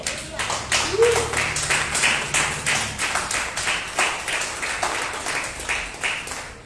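Steady rhythmic clapping from a church congregation during a Sunday service, fairly loud and continuous, with voices audible underneath.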